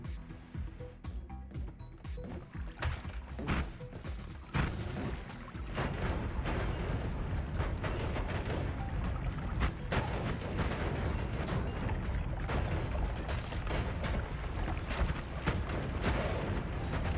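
Explosions rip through the pixel-physics world of the video game Noita, a dense, sustained barrage of booms and crackling blasts that intensifies after a few seconds and keeps rumbling loudly to the end.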